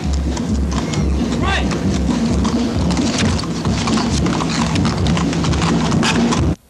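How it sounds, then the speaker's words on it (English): Dense clattering hoofbeats of horses on pavement in a Memorial Day parade, amid loud outdoor crowd noise and a constant rumbling background, heavy and continuous throughout. "We have Fred and Mike Woods on the horses"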